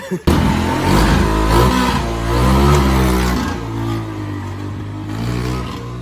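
A modified Honda three-wheeler engine revs loudly and continuously nearby, its pitch rising and falling as it spins its rear wheel in burnout wheelies.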